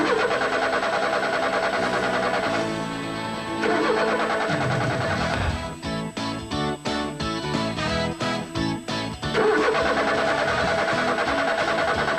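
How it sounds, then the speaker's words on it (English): A car with a flooded engine cranks repeatedly without catching, giving rhythmic stuttering starter bursts in the middle of a stretch of continuous broadcast sound. "Here's a tip for curing a flooded engine."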